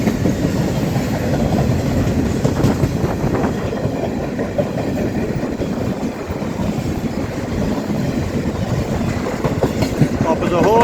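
A freight train with hopper wagons rolls steadily past at close range, with continuous loud rumble and rhythmic clickety-clack of wheels over rail joints and no break in the noise.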